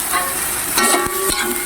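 Freshly harvested vegetables, the hard pieces put in first and seasoned, sizzle in a pan under a loud, steady hiss while a utensil stirs them with a couple of dull knocks.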